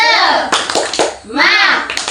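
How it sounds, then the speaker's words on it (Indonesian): Children chant loudly together and clap in a quick rhythmic pattern during a classroom spirit-clap cheer, with sharp hand claps punctuating their shouted voices in a short burst. "Kita ulangi lagi ya. Tepuk semangat."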